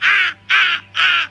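A bird gives three loud, harsh caws in a steady rhythm, close by and alone, each call rasping and evenly spaced.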